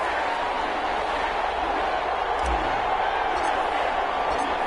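Crowd noise from an EA Sports NFL video game before a Carolina Panthers versus New Orleans Saints matchup, a steady broad stadium roar throughout, with faint whoops rising briefly.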